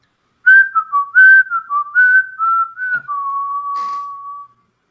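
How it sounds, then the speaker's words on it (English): A person whistles a bouncy melody, clear and close with short phrases ending in a long held note, alone in silence. "you hear her whistling"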